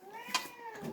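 A cat meows once, a short rising-and-falling cry heard close and clear, with no one speaking over it.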